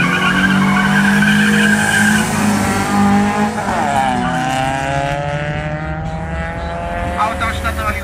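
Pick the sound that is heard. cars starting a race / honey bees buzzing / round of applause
cars starting a race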